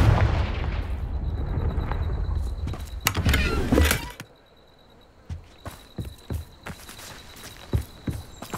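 Confringo blasting spell going off in Hogwarts Legacy at a poacher camp: a loud, dense burst of fiery crackle and rumble that cuts off sharply, followed by scattered faint clicks and pops alone.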